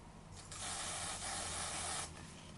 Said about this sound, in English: Just going to spray.